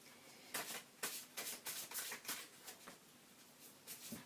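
Tarot cards are shuffled by hand, a quiet close run of about ten quick riffling bursts at an uneven, steady pace with no voices.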